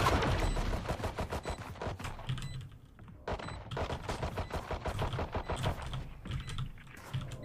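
Desert Eagle shots in a tactical shooter game ring out in rapid bursts, sharp crackling reports stacked close together with short pauses between volleys, loud and up front.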